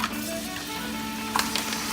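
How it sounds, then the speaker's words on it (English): Chicken sizzles in melted butter in a pan, a steady hissing, crackling fry close up with a few sharper pops, no talking. "Hear that sizzle?"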